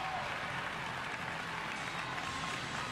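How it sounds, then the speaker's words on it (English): Crowd in a college gymnastics arena applauds gymnast Kara Eaker after her floor routine at a Utah meet, an even, continuous wash of clapping with no talk. "A nice applause for Eaker."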